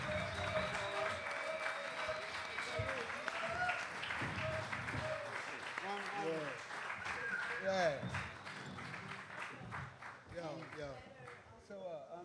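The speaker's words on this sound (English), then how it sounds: "round of applause for our special guest," At a reggae festival panel session, the crowd applauds special guest Big Youth with a continuous spread of clapping, while voices talk and call out over it and the clapping thins toward the end.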